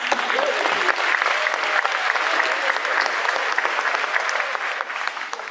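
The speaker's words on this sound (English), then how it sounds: "Yeah, right, a round of applause." An audience applauds at a school Thanksgiving program, dense sustained clapping filling the room for several seconds. Faint voices show under the applause.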